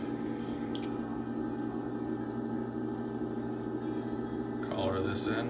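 A sponge soaks water from inside a clay oil bottle being thrown on a pottery wheel, giving soft, close squishing near the end over a constant motor hum.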